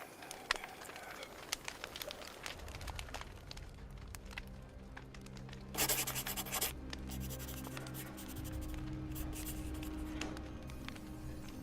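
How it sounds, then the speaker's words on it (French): A pen scratches steadily across paper nearby, with soft birds cooing in the background. "il se munit d'une feuille et d'un stylo et écrit la lettre"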